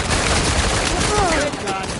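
Sustained gunfire from an Uncharted 4 firefight plays as a continuous, steady wash of shots at moderate loudness, with faint voice-like tones mixed in.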